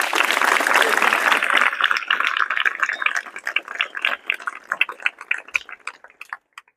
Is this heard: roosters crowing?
no